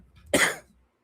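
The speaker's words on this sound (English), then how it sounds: "I'm going to cough." A single short, forceful cough, close and alone, with quiet before and after.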